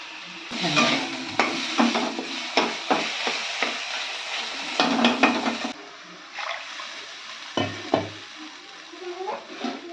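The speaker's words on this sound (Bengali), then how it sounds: "এটাকে ভাজি করতে দেওয়া।" Mutton with coriander paste frying in a pan, a soft sizzle broken by repeated scraping and knocking of a spoon against the pan in uneven bursts, close by.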